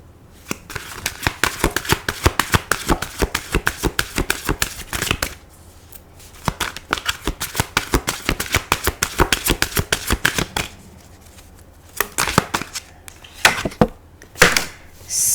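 A tarot card deck being shuffled, a long run of fast, crisp riffling flutters close up with brief pauses between bursts, no talking.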